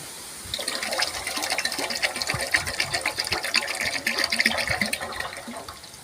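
Pongamia oil is poured into a herbal juice mixture for a medicinal oil. A steady, close liquid trickle and splash runs for several seconds with no talk.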